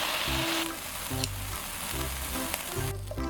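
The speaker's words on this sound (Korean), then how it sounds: "여기에 베이컨도 노릇노릇하게 구워준 다음" Bacon frying golden in a pan beside toasting bread, a steady close sizzle with periodic bursts of stirring or utensil scraping.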